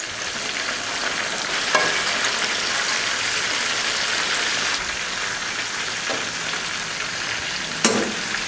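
Lahori chargha chicken deep-frying in hot oil gives a steady, dense sizzle throughout, with a few faint clicks of handling, and no voices.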